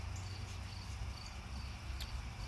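Bugs chirp faintly and steadily in the background, a thin continuous insect trill with no one speaking.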